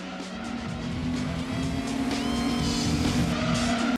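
Racing cars in the PlayStation game Gran Turismo 2 roar with a loud, sustained engine whine that rises in pitch, joined by tire squeal and skidding, continuous and without talking.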